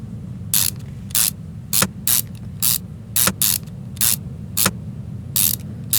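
A ratchet drives screws into a Ferrari 458, with short bursts of bright clicking ratcheting spaced about half a second apart over a steady low mechanical hum, close and clear.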